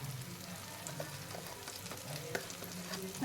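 Onion with cashew and poppy seed paste frying in a pan, a fairly quiet, even sizzle with light scraping stirs throughout, close by and with no speech.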